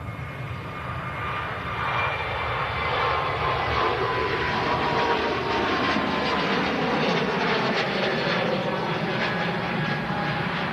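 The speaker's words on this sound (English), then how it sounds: "Transat on the takeoff roll." An Air Transat A321neo jet, Flight 207 bound for Toronto, rolls down the runway for takeoff, its engines building into a loud, steady roar that holds for about ten seconds with no voices over it.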